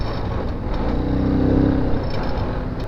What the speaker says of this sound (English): why is there so much traffic?